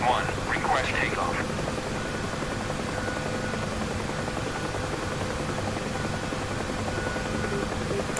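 UH-1H Huey helicopter in the flight simulator DCS, a steady loud rotor and turbine drone throughout, with a brief radio voice chirp at the start.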